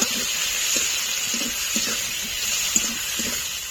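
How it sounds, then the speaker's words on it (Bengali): Chopped onion and tomato frying in oil, a steady bright sizzle and hiss throughout with faint soft stirring taps underneath, close and continuous. "পেঁয়াজ আর টমেটোটা ভালো করে ভেজে নেব"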